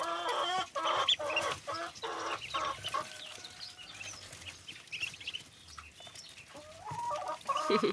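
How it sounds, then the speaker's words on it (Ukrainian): Chickens and ducklings cluck and call in a village farmyard, with a rooster's crow standing out among the steady poultry chatter. "Півень кричить."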